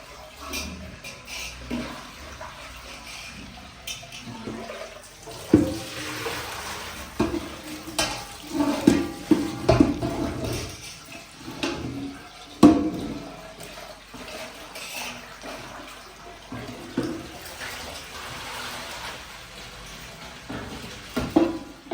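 A cooking pot is washed under running water, with steady splashing and flowing water plus scattered clanks and scrapes of metal throughout.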